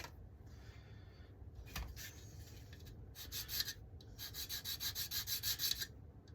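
A balsa wood edge on a Thermal Hunter model aircraft part is shaped into a bevel with quiet rubbing strokes, sparse and uneven at first, then settling into a quick regular back-and-forth rhythm near the end.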